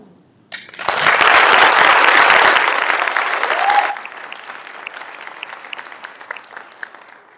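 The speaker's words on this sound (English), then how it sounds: "I would like you to join me in applaud this incredible group of professors" An audience applauds a group of professors at a graduation ceremony, a dense burst of clapping that swells quickly, holds loud for about three seconds, then thins to a scattered, quieter patter.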